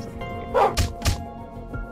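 Two or three quick, sharp dog barks from the Darren Doggy skin in the Roblox game Piggy's Miserability, loud and close with a faint thud between them.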